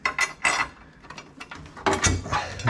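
A steel subframe for a 1996 Honda Civic hatchback is set into place, giving several close metallic clanks and rattles in uneven bursts, with quieter shuffling between them.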